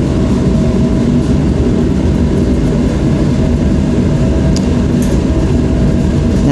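A spin coater spins a resist-coated wafer for e-beam lithography, a loud, steady broadband whir and rumble that stays constant throughout with no talk.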